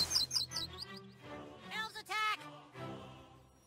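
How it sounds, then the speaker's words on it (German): Birds chirp and tweet in the video game South Park: The Stick of Truth, with quick high chirps at the start and a brighter burst midway, mixed with other faint game sounds. "Oh, Vogel da oben?"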